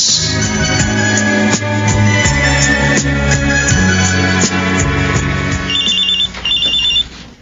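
A cellphone rings insistently inside a knapsack in a radio drama, a loud, repeating electronic ringtone pattern that continues for several seconds and stops near the end.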